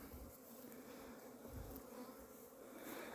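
Honey bees circle their hives in Dnipropetrovsk Oblast during a cleansing flight, a dense, steady buzzing swarm droning softly and continuously, with no voices.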